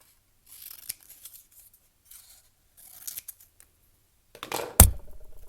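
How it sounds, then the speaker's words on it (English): Scissors snip through paper to cut out a printed heading for a word-matching worksheet, a few quiet, sparse cuts and rustles, then a sharp louder snip near the end. "Cut out the heading and tape or paste it."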